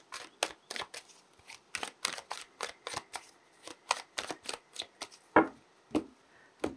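Tarot cards are shuffled close up in a quick series of crisp riffles and soft slaps, each burst short and sharp, with some irregular spacing between them.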